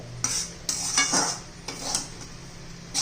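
Semolina (rava) roasts in a pan while a spoon scrapes and taps against the metal in several quick strokes over a faint sizzle, close up with no talk.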